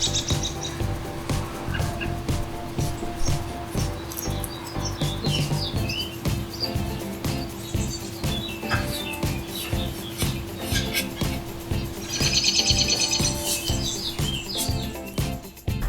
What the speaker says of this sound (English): a little house finch was tweeting to me